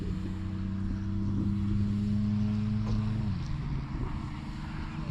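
Motor of a Lanzo Bomber RC model airplane runs steadily with a low, droning buzz, the pitch wavering slightly before dropping and fading out near the end amid outdoor wind noise.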